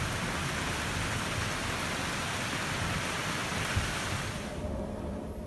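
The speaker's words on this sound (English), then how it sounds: "It's finally starting to rain just a little bit" Light rain falls steadily during a typhoon, a soft, dense hiss of drops on surfaces that holds even and close for several seconds before thinning abruptly near the end.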